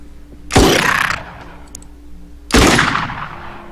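Two loud gunshot blasts from the Xenonauts video game, spaced about two seconds apart, each a sharp crack followed by a short decaying tail over a low steady game hum.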